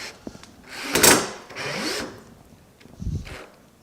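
A power drill whirs in short bursts, speeding up and slowing down as it drives screws, with brief pauses between runs.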